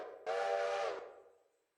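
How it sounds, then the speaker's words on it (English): A steam locomotive whistle in the Railroader video game gives one short, clear, moderately quiet blast that ends abruptly and fades into a brief hiss. "let's release that handbrake and let's just give her a good whistle"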